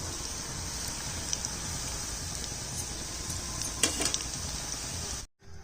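Potato pakoras hiss and crackle as they fry in hot oil in a pan, a steady close sizzle with a few sharper pops near the end before it cuts out abruptly.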